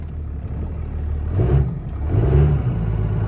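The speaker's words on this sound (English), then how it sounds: "We're driving Ant's truck with the hood stack." Truck with a hood stack engine driving, a loud low rumble that swells and revs in two surges, near and continuous, with no talk.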